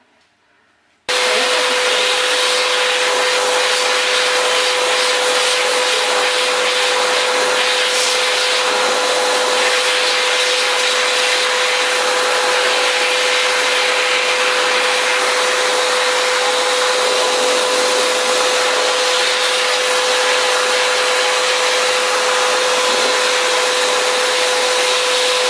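A hair dryer blows steadily and loudly on a freshly washed dog, a continuous whooshing motor roar with a steady whine, switched on after a moment of quiet and running alone without a break.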